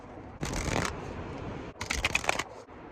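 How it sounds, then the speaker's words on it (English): Two quick, crisp bursts of a card deck being riffled up close outdoors in rainy weather, separated by a short pause. "So let's shuffle your deck."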